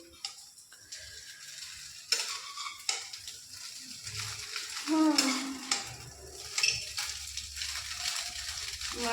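Chow mein frying in a pan on a gas stove, with irregular sizzles and scraping stirs under a light crackle, some bursts louder than others, and occasional voices in the background.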